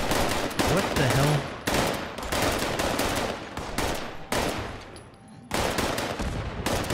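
Sustained bursts of automatic gunfire in the video game Fallout 76, loud and dense, broken by brief pauses between volleys.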